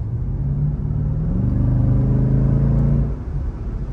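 Supercharged car with a compressor, heard alone as a close, loud engine rev that rises and holds with a deep rumble and a faint whine, then drops off near the end.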